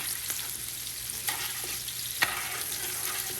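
Vesuvio potatoes sizzle in a frying pan with a steady crackle, as a few sharp scraping clicks mark them being flipped and turned, close and fairly quiet.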